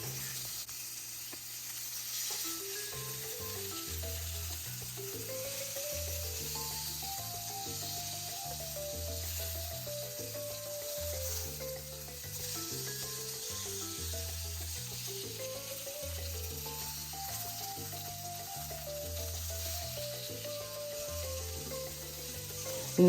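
Salmon fillet frying in a pan after being turned, a soft, steady sizzle and hiss heard faintly under a melodic music backing throughout.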